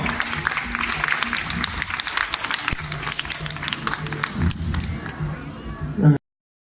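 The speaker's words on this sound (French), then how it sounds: "Vous pouvez les applaudir bien fort" An audience at a martial arts demonstration applauds the volunteers, uneven clapping and scattered footfalls with voices talking over it, ending abruptly.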